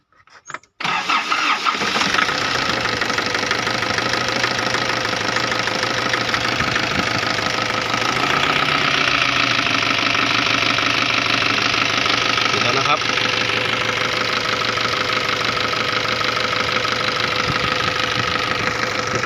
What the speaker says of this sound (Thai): ลองสตาร์ทดูครับว่าเป็นไง เอาเลย